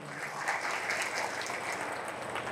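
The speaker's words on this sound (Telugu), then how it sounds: "గట్టిగా చప్పట్లు కొట్టండి" A crowd at a political rally in Achampet applauds, a dense, even wash of many hands clapping at once, sustained and somewhat distant.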